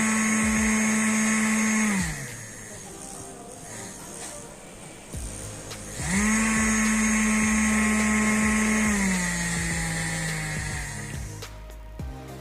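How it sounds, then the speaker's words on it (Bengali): A small 12-volt DC motor whines at high boosted speed, drops to a lower hum, then revs back up to a steady loud whine before winding down, heard close and alone. "তো এটা একটা মোটর 12 ভোল্টে চলে এটা। তো এটা একটু ছোটোই মোটর, এটাই চালিয়ে দেখাচ্ছি"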